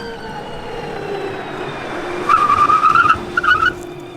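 A Mercedes EQS electric luxury sedan brakes hard, its tires giving a sharp, squealing skid in two short bursts over a steady road hum.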